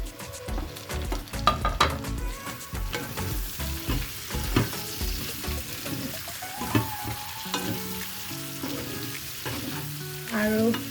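Pork sizzling in its own rendered oil with tomatoes and potatoes, loud and close, with crackling, spattering and the clatter of stirring throughout and no talking.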